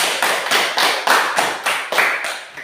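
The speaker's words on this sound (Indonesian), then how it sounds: "Mari kita tepuk tangan dulu, ayo." A classroom of students claps for a presenting group: a short burst of hand claps that swells in repeated waves, close and fairly loud, with no voices.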